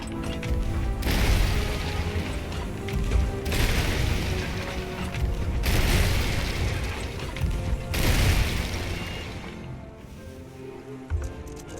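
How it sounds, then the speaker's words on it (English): Cannonballs slam into a skeleton ship during a Sea of Thieves naval battle, a loud, relentless barrage of booming impacts and crashing splinters in waves, with brief lulls between volleys. "The sound of all those cannonballs pounding the skelly ship was the sweetest thing I'd heard all night."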